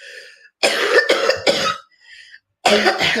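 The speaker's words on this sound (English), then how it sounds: "Sorry, I have cough." Several harsh coughs come close together in two bursts, separated by a brief pause with faint breathy sounds.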